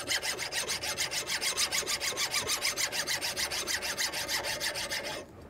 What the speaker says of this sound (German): Jetzt probieren wir erstmal zu sägen.